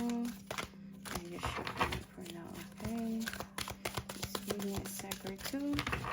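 Cards riffle and snap together in repeated bursts, close up, while a person talks over the shuffling.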